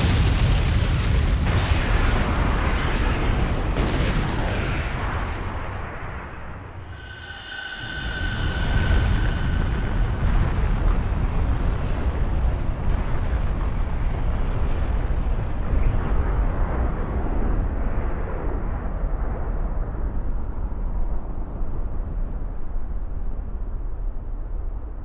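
Tail Beast Bomb attack in Naruto Ultimate Ninja Storm 3, a huge roaring explosion that fills the whole clip with a sustained rumbling blast, a brief dip and a ringing shimmer, then continues as a long loud rolling roar.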